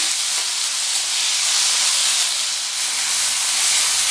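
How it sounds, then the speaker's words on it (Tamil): Chopped tomatoes with a little salt sauté in a pan for chutney, giving a loud, steady hiss and sizzle that carries on unbroken, with faint stirring scrapes underneath. "இந்த தக்காளி நல்லா வதங்கி வரட்டும்"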